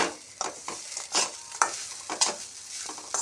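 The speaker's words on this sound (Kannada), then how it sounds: "ಡ್ರೈ ಆಗಿ ಹುರ್ಕೊಳ್ತೀನಿ ನಾನು ಎಣ್ಣೆ ಎಲ್ಲ ಹಾಕೋದಿಲ್ಲ" Spices being dry roasted in a pan with no oil and stirred, a batch for a ladies' finger gojju, giving near, repeated scraping strokes with a light crackle between them and no voices.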